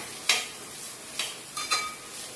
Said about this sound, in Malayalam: അതിനുശേഷം ഇത് ഇളക്കി കൊടുക്കാം.